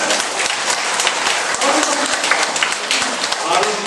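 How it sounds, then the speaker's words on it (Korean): Dense clapping from an audience at a church health seminar, loud and continuous, with crisp individual claps standing out above the steady wash. "박수 나와야 안 나와요?"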